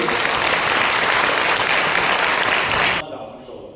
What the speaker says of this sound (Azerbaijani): dəyərli Gülnar xanıma alqışlayırıq biz